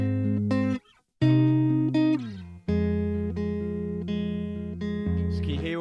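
Guitar melody line played dry without reverb, sustained harmonic notes with distinct attacks and short silent gaps between phrases, close and clear, no talking.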